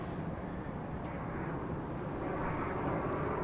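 A jet airplane takes off from Dallas Love Field at night, its engine roar a steady, fairly distant broadband rumble with no talk over it.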